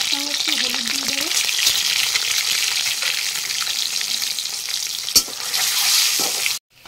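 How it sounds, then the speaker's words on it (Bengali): Eggs sizzle and crackle loudly in hot oil in a wok, a steady frying hiss with faint stirring, ending in a sudden cut. "আমার তেলটা গরম হয়ে গেছে, এখন আমি ডিমগুলো ছেড়ে দেব।"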